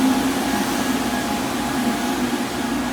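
Car wash tunnel dryers blow in a steady, loud, even roar of rushing air with a constant hum beneath, with no pause across the short stretch.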